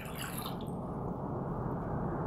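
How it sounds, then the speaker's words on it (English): Water poured out of a beaker in a classroom demonstration, a steady close splashing and trickling flow that runs on without a break for a couple of seconds, with no talking over it. "I pour the water away."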